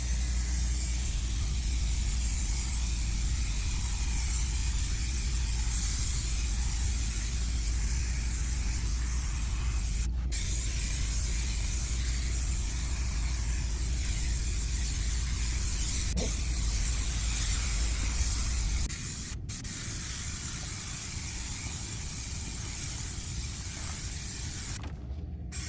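Adhesive glue sprayed hard from an aerosol can onto insulation and hull liner during a bedroom remodel on a Silverton 34-foot Convertible boat, a steady close hiss running almost unbroken for over twenty seconds with a few brief pauses.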